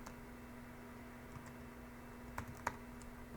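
A store ID being typed on a computer keyboard makes a few faint, sparse key clicks over a quiet room hum, with two slightly sharper taps near the end and no voices.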